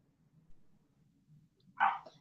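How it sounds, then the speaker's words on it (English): A single quick dog bark rises near the end after quiet low background noise, fairly faint and somewhat distant. "Did you hear barking dog?"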